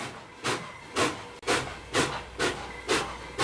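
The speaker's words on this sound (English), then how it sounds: "if you like the sound of steam locomotive exhaust, take a listen to this" Rhythmic chuffs of exhaust from steam locomotive 765, six sharp bursts about half a second apart, loud and clear with no talking.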